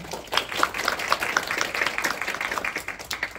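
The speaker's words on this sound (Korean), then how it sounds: "발제자님들께 박수 한번 부탁드립니다" A seated audience at a district policy forum on support for slow learners claps for the presenters, a fairly close, moderately loud patter of hands that rises quickly and holds steady.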